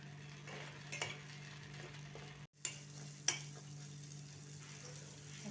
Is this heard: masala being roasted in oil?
yes